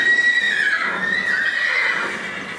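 A horse whinnies in a long, high, wavering call that gradually fades, heard inside a stable in Sharjah, UAE, against a steady background hum.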